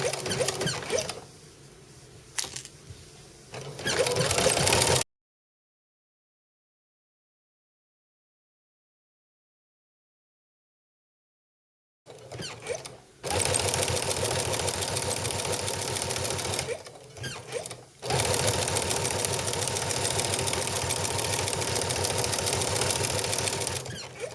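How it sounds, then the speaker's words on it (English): Sewing machine running in bursts, stitching a seam on a slouchy knit sweater, with a loud steady mechanical whir broken by a silent gap and brief pauses as pins are removed. "now I'll sew along and I'll remove the pins as I go."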